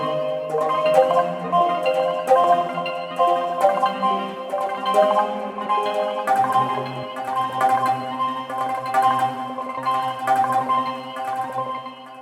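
Kaleidoscope preset on the Cube Mini synth, built from wind instrument samples, playing shimmering, evolving tonal layers with soft repeated pulses, sustained and alone.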